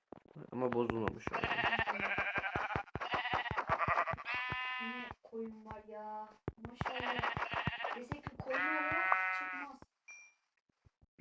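Sheep in the video game Minecraft bleat again and again in wavering, nasal cries, several calls in a row over about ten seconds, loud and close, with short gaps between them.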